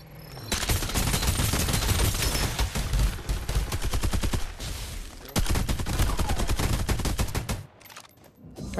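Automatic gunfire in the Farlight 84 shooter game, loud sustained bursts of rapid shots that run almost continuously, break briefly, then resume before tapering off at the end.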